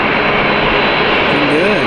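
An airliner pushes back at Manchester Airport, its jet engines giving a steady, loud broadband roar throughout. Faint voices are heard under the noise.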